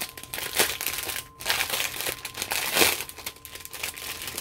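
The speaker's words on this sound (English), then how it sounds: "I'm trying to get the crinkling a little bit away from the pickup of the camera" Plastic packaging of a discount diamond painting set crinkles and crackles in steady bursts close by, with one brief pause partway through and no talking.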